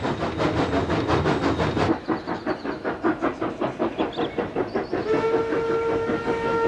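Steam locomotive laboring as it climbs a hill and slows, rhythmic exhaust chuffs that gradually space out, ending with a sustained steam whistle blast, loud and close.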